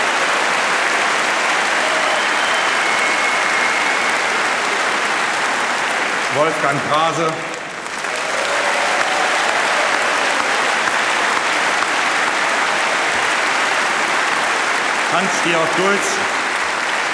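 At a championship celebration, a large crowd keeps up loud, continuous clapping while a man briefly calls out names over it, the applause staying dense and steady throughout.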